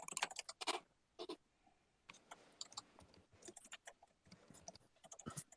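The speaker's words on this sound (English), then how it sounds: "we can hear some keyboard strokes here from your side" Keys clatter on a computer keyboard in uneven bursts of quick clicks with short pauses between, close to the microphone and fairly quiet.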